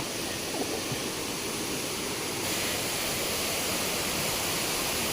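Stream water rushing down a rocky forest slope from above, a loud, steady broadband roar that holds constant throughout and swells slightly partway through, with no voices.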